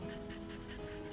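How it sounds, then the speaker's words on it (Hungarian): A dog pants close by in quick, even breaths, a steady rhythmic huffing that carries alone for the whole moment. "Nagyon szép kutya."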